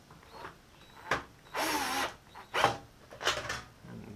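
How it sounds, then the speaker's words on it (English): A power drill pulls down and tightens a nut on a homemade muskrat funnel trap in several short whirring bursts with brief pauses between them, close and fairly quiet. "And then grab my drill,"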